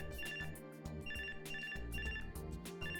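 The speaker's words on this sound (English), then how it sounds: "Someone's poker-com begins to ring, cutting her off mid-sentence." A poker-com phone ringtone from the Robotics;Notes Elite video game plays continuously as a bright, repeating electronic melody over steady background music, moderately quiet with no talking.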